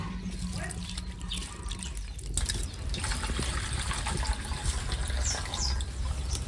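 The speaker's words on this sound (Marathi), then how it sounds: "डबल एकदा पाण्यात धुवून घ्यायचे।" Bombil (Bombay duck) fish washed and rubbed by hand in water, a continuous close splashing and sloshing of water in a vessel with a brief pause midway.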